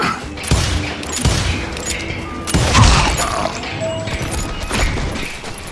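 Enemy gunfire in the Western shooter Call of Juarez: Gunslinger crackles in loud, repeated volleys of shots and booming impacts, with ricochet-like whines and rumbling debris in a sustained firefight.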